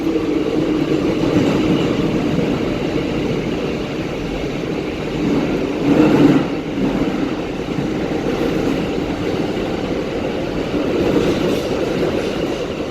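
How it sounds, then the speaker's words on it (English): A New York 7 subway train out of Hudson Yards, Queens-bound, rumbles steadily along the track, a loud continuous roar with faint clickety-clack and a brief surge midway, heard from inside the car with no talking. "Listen to this train travel the track."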